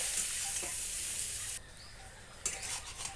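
Cabbage pieces are stirred in a pan while cooking for pasta, giving a steady hiss and sizzle that drops quieter midway, followed by a brief scraping clatter of the spoon.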